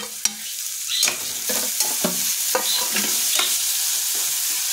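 Chopped tomato goes into frying onions for egg bhurji, with a spatula stirring and scraping the pan in quick irregular strokes over a constant close sizzle.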